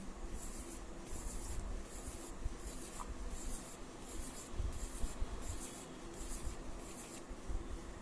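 Pencil drawing repeated practice lines on paper with light pressure, a steady, regular scratchy stroking rhythm close up, continuous without talk.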